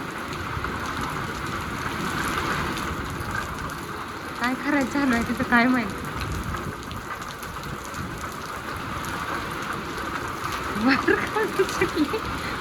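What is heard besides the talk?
rain falling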